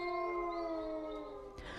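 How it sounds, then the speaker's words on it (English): A single long wolf howl, a sustained tonal cry that holds steady then slowly fades, heard clearly and alone with no talk. "He heard, and immediately closed his eyes, then howled."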